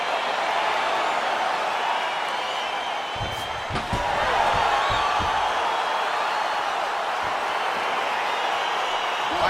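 A steady crowd roar fills the arena as a UFC 4 video game fight begins, with a few thuds and slaps from the fighters breaking through near the middle while a commentator talks over it.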